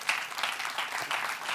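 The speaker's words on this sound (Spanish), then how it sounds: "Denle un aplauso al Señor esta mañana." A Pentecostal church congregation applauds during a Spanish-language sermon, a short burst of dense clapping at moderate distance with a few faint voices underneath.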